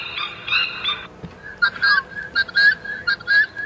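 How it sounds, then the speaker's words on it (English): A coqui francolin calls at dusk on an African safari, giving a rhythmic series of bright, repeated whistled notes at close range after a brief opening phrase, with no talking over it. "So that is the coqui francolin."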